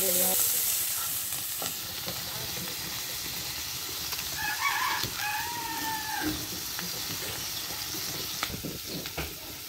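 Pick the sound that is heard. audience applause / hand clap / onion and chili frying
onion and chili frying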